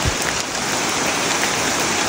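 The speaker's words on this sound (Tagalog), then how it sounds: "Umuulan kasi mga idol kaya ang hirap mag-video," Steady rain falls outdoors while trees are being dug up for ube, a constant even patter close to the phone recording it.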